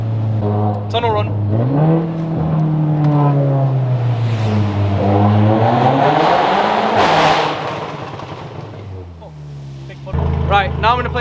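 A VW Golf R MK7 engine revs hard through a tunnel, its tone rising and falling through gear changes with booming echoes and loud exhaust crackle, ending on a steady idle-like drone.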